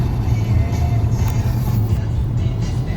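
A 2019 Nissan Altima driving on the road with a loud, steady low engine and road drone from inside the cabin, rising slightly as it accelerates over about three seconds.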